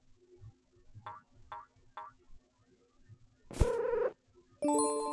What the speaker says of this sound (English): The cat purrs and rubs up against you,